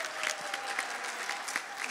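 Hearty applause for children at a school Nowruz celebration, a crowd clapping steadily and loudly, with individual claps standing out here and there and faint voices underneath.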